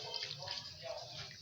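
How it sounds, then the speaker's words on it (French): Water poured into couscous being prepared for an Algerian recipe, a short splashing, trickling pour up close, steady for just over a second. "On rajoute encore un peu d'eau."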